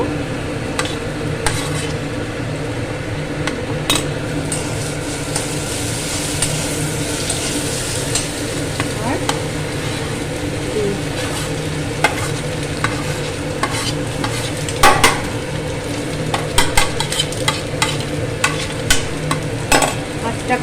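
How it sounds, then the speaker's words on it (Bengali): Ingredients for a Bengali egg and potato mash fry in a pan, a steady sizzle under repeated stirring scrapes, with sharper clinks of a spatula against the pan growing more frequent toward the end. "লাল লাল করে ভাজা হয়ে গেল এরপর দিয়ে দেবো আলু"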